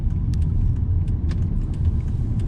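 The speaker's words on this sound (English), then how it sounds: "We'll take it out now onto a dual carriageway here, just so we can hear it sing, because I'm so excited to hear this V8" A 2008 Volvo S80 V8 cruising on a dual carriageway, a steady deep engine and road rumble heard from inside the cabin, continuous and fairly loud with small clicks and rattles.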